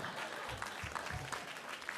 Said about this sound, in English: please clap for their terrible planning